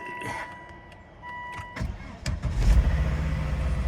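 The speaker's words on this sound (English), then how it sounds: "Let's do a very cold start" A 2006 Volvo XC70 engine cranks and catches on a very cold start, after chimes and beeps from the dashboard, then settles into a low, steady rumble close by.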